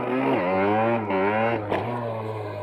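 A small engine of an A-tractor car drones nearby with a steady tone, briefly dipping and revving up again as the vehicle drives along.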